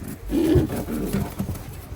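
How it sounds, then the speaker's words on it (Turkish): Akbaş German pigeons, one group red and one yellow, coo softly nearby in a low, throaty burble that rises and falls across a couple of seconds, with no talking over it. "Akbaş Alman kuşlar"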